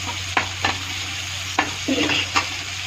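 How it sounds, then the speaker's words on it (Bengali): Hot oil sizzles steadily as tomatoes fry in a pan while a utensil scrapes and stirs in a few short strokes, close up with no voices. "টমেটোটা ভাজা ভাজা করে নিই।"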